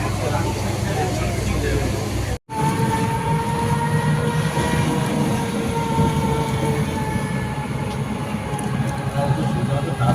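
The Doon Express runs from Howrah toward Haridwar. There is a steady rumbling roll of rail wagons with faint clatter and a sustained tonal whine, heard close from aboard, with a brief dropout near the start.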